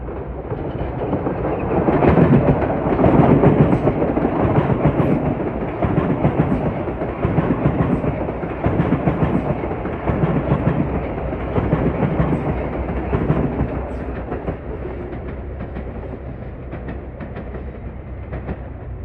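A Metro-North Danbury train on the Harlem Line rumbles past close by with steady clickety-clack over the rails, loud at first and gradually easing off as it moves away.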